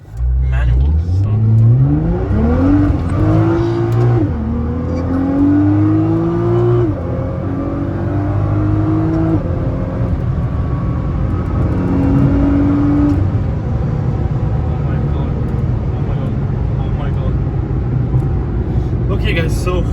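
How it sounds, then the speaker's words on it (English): A Nissan GT-R driven in manual mode accelerates hard, its engine note rising in repeated climbing sweeps between gear shifts, loud and close inside the cabin, with someone talking over it. "now we're gonna drive the car manual"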